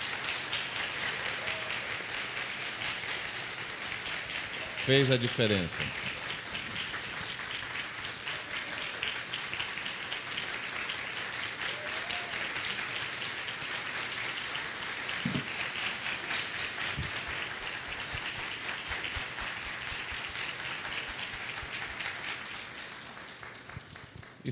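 Sustained audience applause fills the room after a genetics and epigenetics lecture, a dense steady clatter of clapping lasting throughout, with a brief voice speaking over it near the start.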